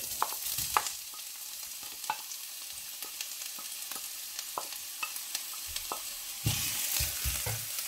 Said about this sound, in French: Je vais déjà y faire revenir l'ail et l'oignon.